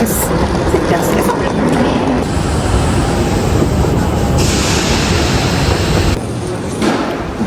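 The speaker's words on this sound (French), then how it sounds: "Je suis à la gare." Busy train station ambience before a cross-border trip to London, with a steady loud wash of crowd murmur and rail noise throughout, shifting slightly in tone near the end.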